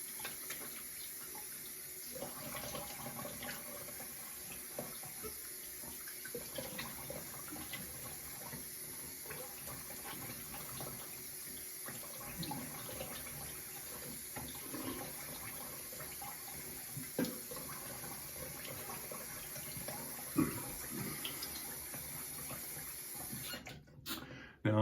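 A bathroom tap runs steadily while a razor is rinsed under the stream, a soft continuous splashing with faint clinks and shifting water, quiet and close, without speech.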